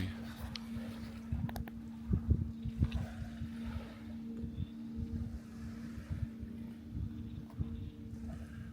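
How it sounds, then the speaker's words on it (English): A low motorboat engine drones steadily in the distance as a boat motors past Fort Fremont, with light wind and water noise and a few scattered thumps nearby. "Hear a boat going by. He's just motoring away."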